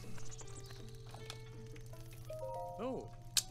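Horse hooves clip-clopping in Zelda Breath of the Wild, a quick run of light hoofbeats with a whinny-like call, heard under a talking voice and game music.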